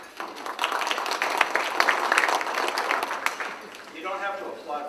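Applause from a conference audience at a Boston business club luncheon, a broad crackling wash of clapping that builds and holds for several seconds, then thins as a voice begins speaking over the tail.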